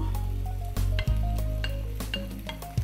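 Onion and lardons dropped into a hot pan of browned beef for boeuf bourguignon, a loud continuous sizzle with a few spoon scrapes and stirring knocks across the pan, no talking.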